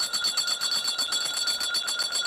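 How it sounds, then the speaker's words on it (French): A bell rings out at a presidential swearing-in ceremony in a stadium as court members enter, a rapid, steady metallic ringing that continues throughout with no voices over it. "La cloche est en train de retentir pour annoncer leur entrée."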